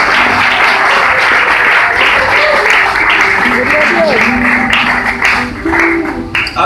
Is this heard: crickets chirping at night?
no